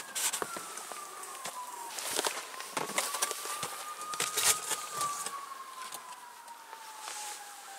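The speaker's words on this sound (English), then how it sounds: "So sirens again, must be something serious." Sirens wail in the distance outdoors, one long tone slowly rising and falling across the whole stretch, faint beneath nearby rustling and crunching footstep-like noises.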